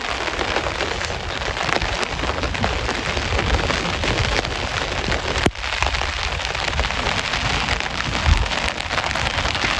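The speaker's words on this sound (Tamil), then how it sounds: "ஃபுல்லாக கட்டும் மழை தான் பெய்துன்றது" Heavy rain pours down during flooding, a dense continuous roar of drops on surfaces, loud and unbroken, with no voices.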